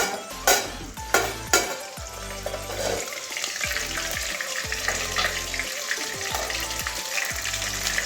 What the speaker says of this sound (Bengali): ঢাকা দিয়ে ভাজছি মাথাটা বেশ বড় আছে